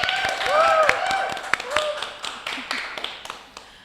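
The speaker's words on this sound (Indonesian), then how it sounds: "Tepuk tangan" A few people in a small podcast studio clap their hands: scattered, uneven claps that start with voices overlapping and then thin out into sparse, fading taps.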